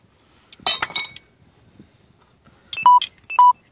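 A phone gives beeping alerts, two sharp, loud beep pairs near the end, preceded by a brief clinking rattle, close by with quiet gaps and no talking.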